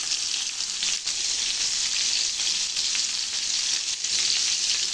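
Onions and chili frying in a pan for chicken curry hiss with a constant broadband sizzle that stays even and fairly close throughout, with no voices.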